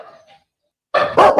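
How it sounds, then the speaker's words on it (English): Two loud, close dog barks come from a recording played back, arriving in quick succession after a short quiet gap. "so I play that dog barking so that Joe Barker can hear the other dog ba"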